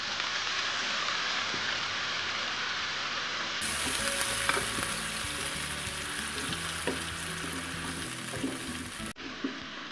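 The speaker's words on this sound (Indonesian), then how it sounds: "Tuangkan air rebusan spaghetti." Spaghetti cooking water is poured into a pan of curry sauce, setting off a loud, steady sizzle and bubbling hiss that sharpens midway and holds without talk.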